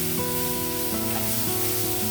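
Chopped onions sizzle steadily in a hot pan with ginger-garlic paste just stirred in, giving a continuous close, even hiss that does not let up.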